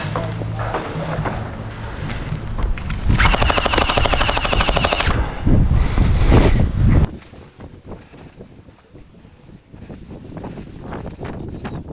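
A gel blaster legal in Victoria and Tasmania fired during an outdoor skirmish game: dense rapid-fire bursts of loud cracking shots, broken up by gusts of wind noise across the microphone and a quieter stretch after the firing stops.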